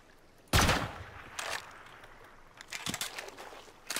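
Gunfire aimed at a door during a raid in the survival game Rust, heard as one loud sharp shot followed by a few scattered, quieter shots and bursts over about four seconds.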